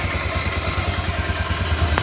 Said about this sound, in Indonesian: Biasanya saya kalau manasin motor itu 5 menit